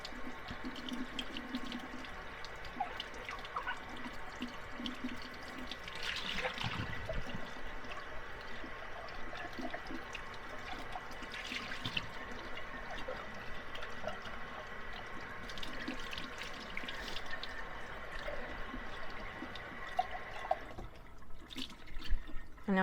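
Dishes are rinsed under a running kitchen tap, a steady close hiss of water with splashes and clinks of crockery, the flow shifting as items pass beneath it before stopping near the end.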